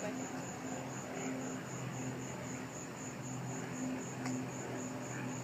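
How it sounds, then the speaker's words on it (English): An airplane circles overhead during a lightning storm over Saint Augustine, Florida, giving a steady, distant engine drone with a faint tonal hum that holds evenly for the whole stretch. "You see that plane? He just circled it."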